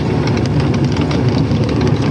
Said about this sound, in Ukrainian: трохи тілепає трактор